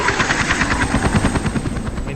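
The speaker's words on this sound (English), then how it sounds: "Until the helicopter goes." A helicopter passes overhead with a loud, rapid rotor thump beating steadily throughout, close and dominant.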